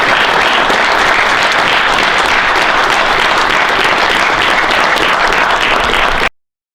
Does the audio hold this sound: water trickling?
no